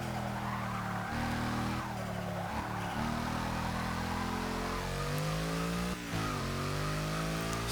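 A 2012 Mercedes-Benz C 63 AMG Coupé Black Series accelerating hard and struggling for traction, its engine note rising and dropping through gear changes with tyre squeal, continuous and fairly close, no voices.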